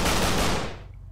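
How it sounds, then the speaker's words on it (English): Gunfire in the video game Deadbolt: a loud, dense burst of shots that quickly decays into a fading tail, heard alone with no talk. "Wait, I can shoot through here."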